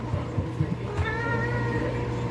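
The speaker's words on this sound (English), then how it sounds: "Cats running around, sorry." Cats running around let out several short, close meows and then one longer, drawn-out meow over a steady low background hum.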